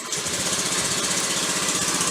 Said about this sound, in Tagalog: Subukan muna natin pandarin ang motor.